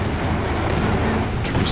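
Calliope rocket artillery barrage in Company of Heroes 2, a dense rolling rumble of launches and impacts that holds steady and loud throughout, with the crackling barrage swelling briefly near the middle.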